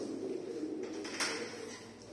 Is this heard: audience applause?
no